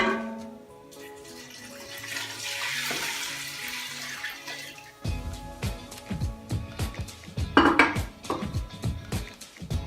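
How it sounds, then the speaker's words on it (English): Water pours steadily into a pot for several seconds with a rushing hiss, followed by a series of metallic clanks and knocks of cookware, in a kitchen during Mexican cooking. "And you cover it with water."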